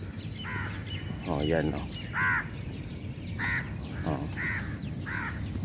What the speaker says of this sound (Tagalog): Yung mga uwak ko.